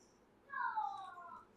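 A cat meows once from a kitty video game playing in the background, a faint, drawn-out mew lasting about a second.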